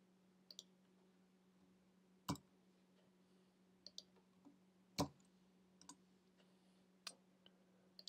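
Sparse keystrokes on a computer keyboard while a password is entered for SSL setup: scattered light clicks with a few sharper taps, close by and quiet over a low steady hum, with no talking.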